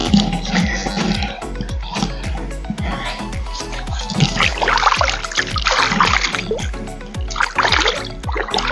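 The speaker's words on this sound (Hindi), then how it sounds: "और यहाँ से थोड़ा मुँह वगैरह धो लूँ" Hands scoop and splash clear water from a stone river onto a face in a rapid, irregular series of close, wet splashes and drips over the steady flow of the river.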